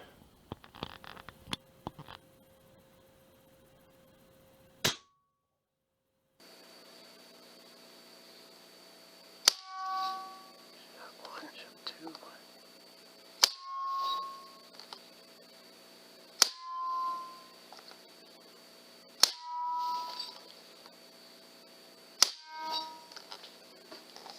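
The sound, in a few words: Badger .40 caliber air rifle shooting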